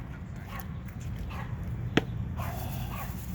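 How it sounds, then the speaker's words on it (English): A dog yapping faintly in the background of a Chicago vegetable and herb garden, one short sharp yip standing out over a low steady ambient hum. "I apologize for the noisy dog in the background."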